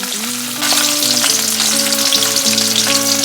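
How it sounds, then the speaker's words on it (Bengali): Fish coated in spiced cornflour and rice flour deep frying in oil, a loud, dense bubbling sizzle that swells after a moment, with tuneful background music and no voices. "এবার দেখো জাস্ট ডিপ ফ্রাই করবে"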